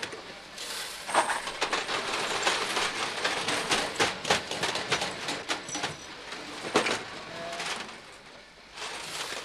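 Prague trams roll along their rails with rhythmic clicking and clattering of wheels over track joints, rising and falling in loudness as they pass amid city street noise.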